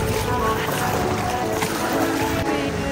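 Boarding a boat in shallow water at Sabang Beach, Palawan, in the Philippines, with steady, close rushing water and boat noise filling the whole stretch without a break.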